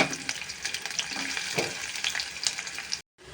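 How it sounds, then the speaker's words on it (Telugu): Onions frying in a generous amount of oil, a steady broadband sizzle with scattered crackles and spatters, close and moderately loud, cutting off abruptly near the end. "ఆనియన్స్ వేసేసి ఫ్రై చేసేద్దాం."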